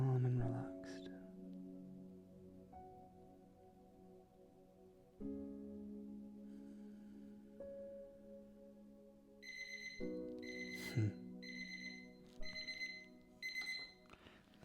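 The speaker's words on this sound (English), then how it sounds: "There's our timer." A timer beeps during a restorative hatha yoga class, sounding as a series of short repeated electronic tones toward the end, after a stretch of calm, quiet background with faint sustained tones.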